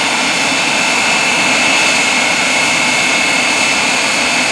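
The jet engine of the Aftershock jet-powered fire truck roars at an air base show, a loud, constant, full-bodied blast with a steady high whine, close and unbroken throughout.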